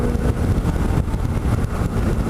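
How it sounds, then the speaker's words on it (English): A modified BMW R1200C motorcycle engine runs at a steady, throaty rumble, close and continuous with no talk over it. "That engine is running good."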